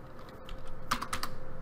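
Typing on a computer keyboard while editing code, a run of quick, irregular key clicks that picks up after a quiet start and keeps going steadily, close and fairly soft with no talking.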